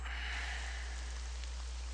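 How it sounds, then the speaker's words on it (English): Soft, steady patter of rain falling in the video game Devil Hunter: Seeker of Power, a faint even hiss with a low hum beneath and no voices. "Rain?"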